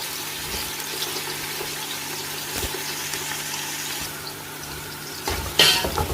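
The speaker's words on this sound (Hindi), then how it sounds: "प्याज को मैं ब्राउन होने दूंगा" Chopped onions frying in hot oil for a chicken pulao, a dense steady sizzle and hiss heard close with no talk, a brief louder crackle near the end.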